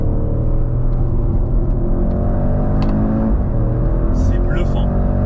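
A Porsche Cayenne engine screams loudly near 7000 rpm on track, a dense sustained rising roar with thick harmonics filling the whole span, while faint voice sounds and brief clicks poke through.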